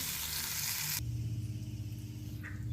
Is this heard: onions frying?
yes